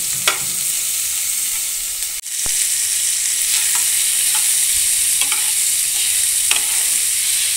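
Sliced onion and thin tomato strips sauté in a hot pan for an okra dish, a steady loud sizzle with occasional stirring scrapes and a brief dip in the middle.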